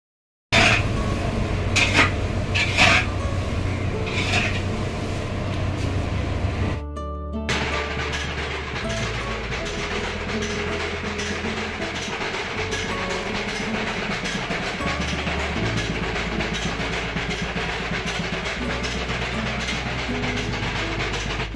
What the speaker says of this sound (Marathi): चला आता डंकावर जाऊया, आपला लाल तिखट पावडर कुटून घेऊया